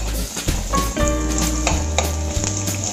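Sliced onion frying in a pan crackles and sizzles loudly up close, broken by several sharp clatters of stirring at irregular intervals.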